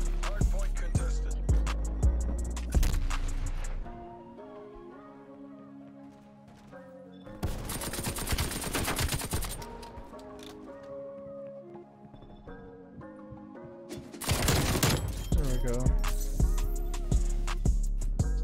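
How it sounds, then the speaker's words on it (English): Nail gun from the Puncture Wound blueprint firing in Call of Duty: Black Ops Cold War, sharp repeated shots in loud bursts over a backing music track, with quieter stretches between the volleys. "This is the new nail gun"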